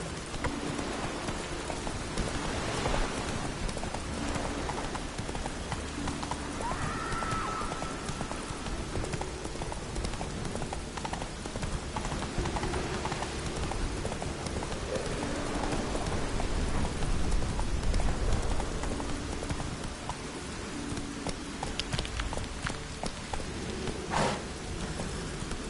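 In The Witcher 3 video game, a horse gallops through rain: steady, rhythmic hoofbeats over a constant wash of rainfall, with no talking.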